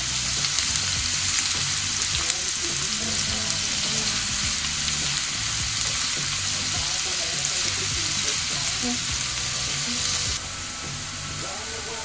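Chopped onions frying in a pan for a Ramadan iftar snack, a steady, close sizzle with stirring that runs continuously throughout, with no voices.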